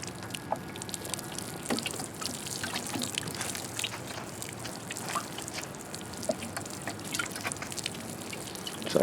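Water drips and trickles onto carrot plants in a garden bed, making a soft, continuous patter with scattered small splashes at a fairly low level.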